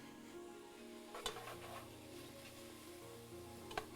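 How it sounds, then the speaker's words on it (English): Onions cooking down in a pan for a chicken and vegetable filo pie, a soft steady sizzle with a couple of sharp stirring scrapes and clinks, fairly quiet and without talk. "I'm going to start cooking down these beautiful onions."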